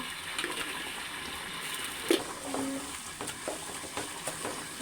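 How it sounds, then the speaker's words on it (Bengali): Rice being stirred and fried in a pan with ginger, garlic and salt, a steady low sizzle with scraping and clinking of the spoon at irregular intervals, close and without talk. "সুন্দর করে নাড়িয়ে চেড়ে দিচ্ছি সুন্দর করে ভেজে নিব আমি এই রাইসটা"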